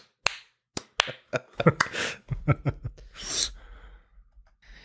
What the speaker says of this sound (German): Ja, also Slow Clap auf jeden Fall von meiner Seite